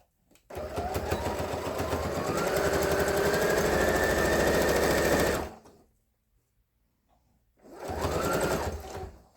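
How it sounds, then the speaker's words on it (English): A sewing machine stitching a quarter inch in from the edge through binding, quilt block, batting and muslin layers of a quilted hot mat, a loud close steady whir that stops briefly, then runs again. "we're going to start 1/4 of an inch sewing through all the layers"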